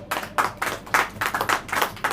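Congregation clapping hands in unison during a Hindi church sermon, a steady rhythmic run of about ten sharp, bright claps spaced roughly a quarter second apart, fairly close and without talk.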